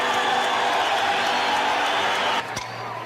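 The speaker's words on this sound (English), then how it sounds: "Listen to the crowd" Baseball stadium crowd cheering for Reggie Jackson's possible final at-bat, a steady broad roar of voices and whoops throughout before dropping off near the end.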